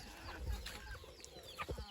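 Free-range native Indian country chickens cluck and murmur close by in short, irregular bursts, with some scratchy rustling mixed in; fairly quiet overall.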